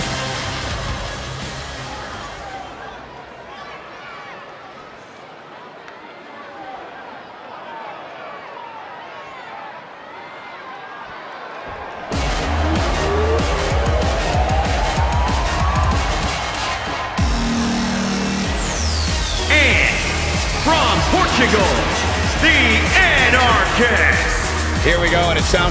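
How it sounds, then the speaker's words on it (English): A WWE arena crowd ahead of a women's match, with a muffled, low hubbub early on that swells into loud, roaring cheers and noise over the second half. "Sounds to me like the crowd is more than ready for this one."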